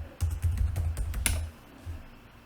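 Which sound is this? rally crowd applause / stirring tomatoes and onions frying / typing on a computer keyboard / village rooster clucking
typing on a computer keyboard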